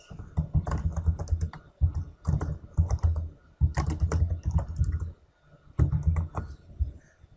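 Close-up typing on a computer keyboard at a desk comes in several fast bursts of clicking keystrokes with short pauses between them. No one speaks.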